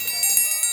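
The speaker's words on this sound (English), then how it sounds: "And of course, who can forget the dinner bell?" A dinner bell rings in several quick, bright strikes over less than a second, loud and close, with a metallic shimmer lingering between hits and no voices.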